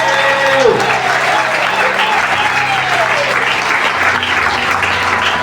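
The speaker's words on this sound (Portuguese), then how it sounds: "Vou bater palmas para Jesus. Aleluia, aleluia. Aplauda mais forte ao meu Deus." A church congregation at a Sunday service in Maputo claps for Jesus, a dense, steady roar of many hands with crowd voices mixed in, loud and sustained throughout, with a brief rising tone near the start.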